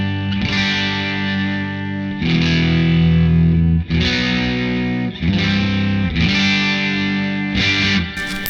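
An electric guitar played through a NUX Atlantic spring reverb pedal, loud distorted chords struck about every one to two seconds, each ringing out with a washy spring reverb tail.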